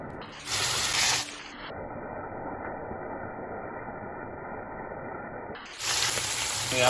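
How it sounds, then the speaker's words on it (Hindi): Garlic paste and chicken frying in a pan give a steady, close hiss of sizzling oil, swelling into louder bursts of spattering at the start and end. "पेस्ट यहाँ पे डाल दिया गार्लिक का, और ये फ्राई हो रही है।"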